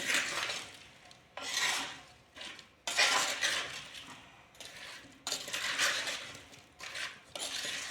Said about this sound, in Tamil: எண்ணெய் சூடாகவே ஊற்றுங்க, அப்போ தான் அந்த மிளகாய் தூள்லாம் பச்சையாக போட்டோம்ல, அதுக்கு அந்த வாசனை போகும். நல்லா கிண்டி விடுங்க.